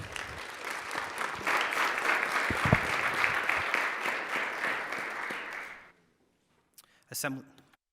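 A chamber full of people applauds guests at a state assembly floor session, steady sustained clapping for about six seconds that ends abruptly, followed by a brief spoken word.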